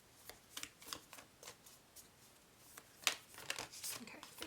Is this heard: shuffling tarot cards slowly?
yes